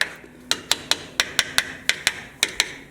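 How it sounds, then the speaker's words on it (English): A screwdriver run along a used Jeep's metal frame gives a series of about a dozen sharp, close metallic taps, spaced irregularly across a few seconds with no talking. "you can just take a screwdriver and just go along"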